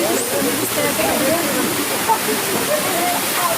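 Rushing water from Kalidonia Waterfalls near Platres in the Troodos mountains, a steady broadband roar filling the whole clip, with faint voices of hikers mixed underneath.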